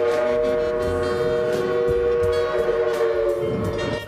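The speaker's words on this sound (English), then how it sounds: "welcome to the top 15 steam locomotive whistles." A loud, sustained three-chime steam whistle of Southern Railway locomotive 4501, a Princeton three-chime, sounds a rich, steady chord with no break, over a low rumble.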